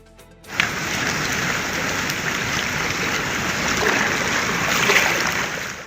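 After a brief quiet moment, heavy monsoon rain in northern Kerala bursts in and pours down in a loud, dense, unbroken roar.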